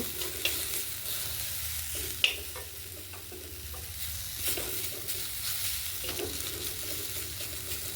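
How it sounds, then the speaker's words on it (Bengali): Borma greens sizzle gently in a pan in a village kitchen, a soft steady frying hiss punctuated by repeated spatula scrapes and stirs, one sharper clink standing out early on. "আর একটু ভাজবো।"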